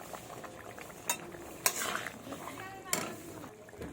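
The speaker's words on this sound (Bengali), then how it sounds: "এই দেখো বন্ধুরা, ঝোলটা আমার ফুটে গেছে। এবার মাছগুলো আমি ছেড়ে দেব।" Fish curry broth of bottle gourd and mirik fish boiling in a pot, with soft bubbling and several sharp clinks of a utensil against the pot, close and fairly quiet.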